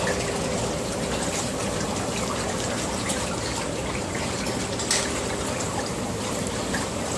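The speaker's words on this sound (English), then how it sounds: "This diverter valve leaks pretty bad." Water steadily leaking and trickling from a hot tub diverter valve, a continuous close splashing, gushing wash with no pauses or voices.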